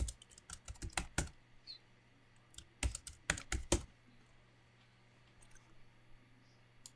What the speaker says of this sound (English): Go ahead and type solar in.